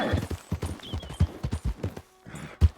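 Horse hooves clip-clopping at a steady trot in the Red Dead Redemption 2 video game, a close, regular train of hoof strikes with a brief pause before the hoofbeats resume.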